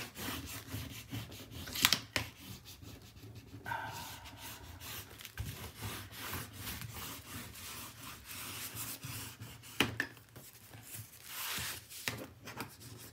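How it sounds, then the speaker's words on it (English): Soft, quiet rubbing and scraping as a bent mini album page is burnished by hand, in uneven strokes with a few sharper scuffs, close and faint. "And then I'm going to start burnishing."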